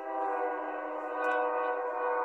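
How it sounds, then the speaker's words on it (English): A passing train near the tracks sounds a sustained, loud horn blast, a rich steady chord held for the whole stretch with no talking over it. "sorry about the train. I live by train tracks."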